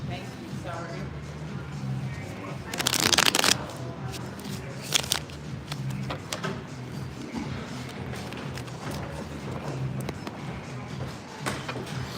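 Tarot cards shuffled for a reading, crisp riffling bursts and soft slides beneath a voice talking throughout.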